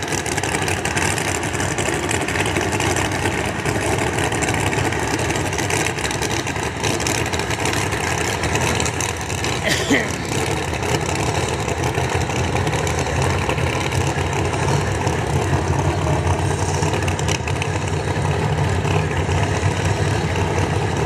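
A small-tire drag race car idling at an IHRA test session at a motorsports park, a steady rumbling engine held for a long stretch among open-air track noise, fairly loud with no talk.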